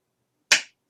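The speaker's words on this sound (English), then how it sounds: "We'll start by clapping one time." A single sharp hand clap, crisp and close, cutting through complete silence and fading quickly.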